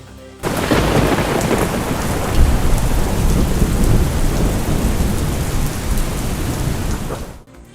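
Heavy rain pours down in a dense, continuous roar with rumbling thunder during a severe monsoon downpour, loud and close with no voices.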